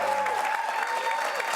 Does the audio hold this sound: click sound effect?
no